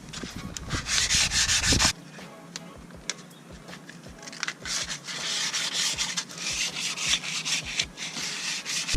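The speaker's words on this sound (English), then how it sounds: "got some 400 grit. This is to smooth out the surface a little bit better." Hand sanding of a steel wheel with 400 grit sandpaper, a loud continuous rasp at first, then quicker rhythmic back-and-forth rubbing strokes, close up, with no talking.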